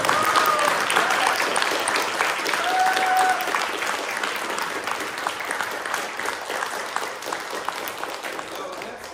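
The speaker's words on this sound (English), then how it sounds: "Let's give her applause." Audience applause for a student piano performer at a recital, a steady, full wash of many hands clapping that fades slightly toward the end, with faint voices beneath.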